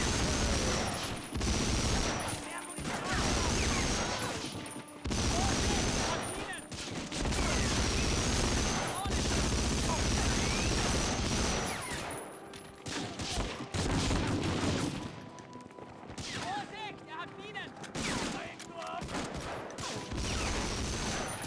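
Dense, continuous gunfire fills a Medal of Honor: Frontline battle, with an MG42 machine gun's rapid bursts dominating, broken by brief pauses and a voice talking over the noise.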